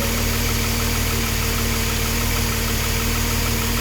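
A 1970s BMW M1 settles into a steady idle right after start-up, its engine a loud, continuous rumble with an even, throbbing rhythm and no talk.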